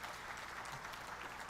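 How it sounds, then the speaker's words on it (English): An audience applauds Professor Elizabeth Kalunda at a professional annual seminar, a dense, even patter of many hands clapping throughout without a break. "Let's give Professor a big round of applause."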